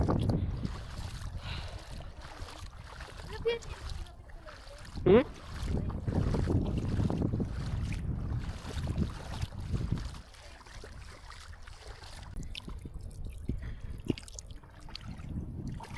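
A small outrigger boat out on dark water at night off a white sand beach in Pangasinan, with low rumbling water and wind noise, a brief louder swell midway, and a faint murmured voice.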